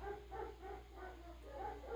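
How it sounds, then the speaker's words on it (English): Dogs in the next room whimper and give soft, muffled yips in a rhythmic run of short cries, faint and somewhat distant over a low steady hum, with no talking. "My dogs are going crazy because they hear me in here."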